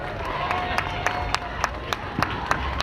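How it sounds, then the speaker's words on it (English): Crowd at a high school homecoming parade applauding a senior court couple: scattered claps and light cheering from outdoors, with sharp individual claps standing out over a steady crowd murmur. "Warm round of applause for Greg and Madeline today"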